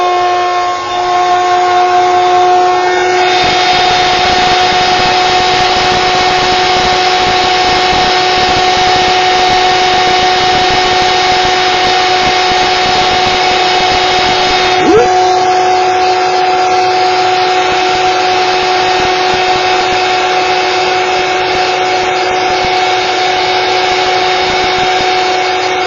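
Heat gun blowing steadily while melting embossing powder on a Christmas gift card holder, a loud continuous whirring roar with a constant whine lasting throughout, close by, no talking.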